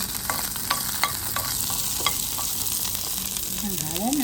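Onions and curry leaves sizzle in hot oil in a pan for a Jaffna-style crab curry, a steady close frying hiss with scattered crackles and a stirring scrape near the end.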